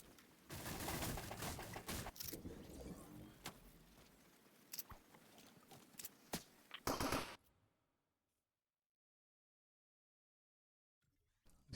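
Gunfire from a Fortnite match rings out in rapid bursts of sharp shots, loud and dense at first, then stops abruptly into near silence with a faint sound at the very end.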